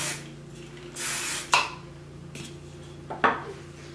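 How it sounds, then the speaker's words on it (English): Hairspray aerosol misted onto freshly made curls, three short hissing bursts: a longer spray early on, then two quick sharp puffs, close and clear with a light clink of the can between them and no talk. "I'm going to do a little bit of hairspray"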